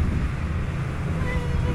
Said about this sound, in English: Look at the water coming up.